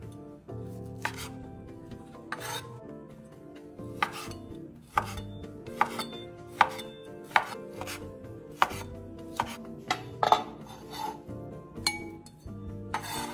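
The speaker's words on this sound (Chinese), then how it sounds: "接着再将肉切成小块，" A cleaver chops blanched pork into small pieces on a board, sharp knocks landing at an uneven pace, some crisp and loud, with faint clinks of utensils between them.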